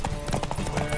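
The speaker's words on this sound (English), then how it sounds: "Beat the Baron in a horse race." Horse galloping in a race in The Witcher 3, a steady rapid clip-clop of hooves running continuously and close, with a brief whinny-like tone mixed in.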